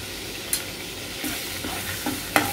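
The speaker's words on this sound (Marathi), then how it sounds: "थोडंसं आपल्याला परतवून घेऊया।" Bay leaf, three cloves and a crushed cardamom pod sauté in hot oil for a restaurant-style paneer do pyaza: a steady, moderate sizzle with a few sharp stirring scrapes and clicks, no voices.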